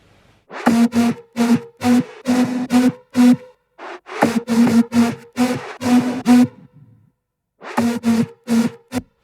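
A thick, layered synth lead from the drop of the song plays choppy staccato phrases in a driving rhythm, with brief pauses between runs, loud and without any voices.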